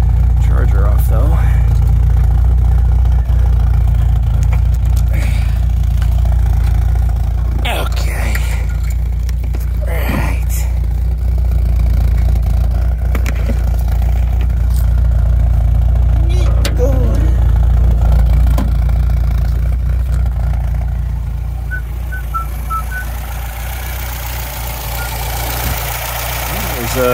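A 1972 MGB engine runs close by with a steady idle and a few brief revs, fresh fuel pump fitted and gray smoke showing, as someone talks intermittently over the continuous engine note.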